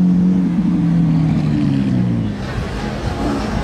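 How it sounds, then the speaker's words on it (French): A Ferrari Aperta sports car passes close by on a Monaco street during Grand Prix evening, a loud low engine drone that swells and then fades slightly as it goes by. "je loupe la Ferrari Aperta qui passe par là"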